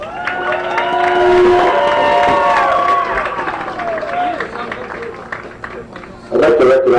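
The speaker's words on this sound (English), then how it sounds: "I'd like to have all the fans here give these seniors a nice round of applause" Fans cheering and clapping for seniors at a girls' high school sports game, crowd noise and shouts swelling then easing, with a voice over the crowd.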